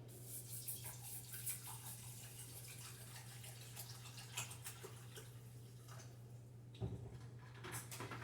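Fenugreek liquid poured into a container, a faint, continuous trickle and splash over a steady low hum, with a brief knock partway through.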